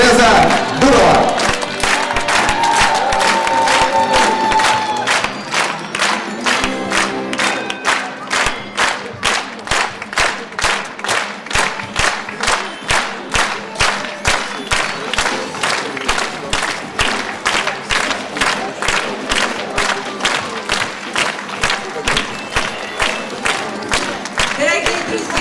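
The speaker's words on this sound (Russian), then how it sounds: "Дорогие друзья, большое вам спасибо за ваши теплые аплодисменты." A theatre audience gives warm applause, starting as a loud wash of clapping and cheering, then settling into steady rhythmic clapping in unison that keeps a regular beat throughout.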